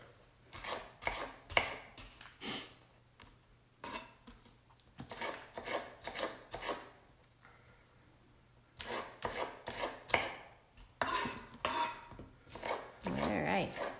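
Vegetables chopped with a knife on a board, bursts of rapid, close, crisp knife strikes in several runs separated by short pauses.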